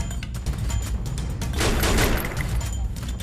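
Gunfire in the mobile battle game Free Fire, a rapid string of sharp shots and bursts with a denser volley near the middle, heard alongside game sounds and occasional voices.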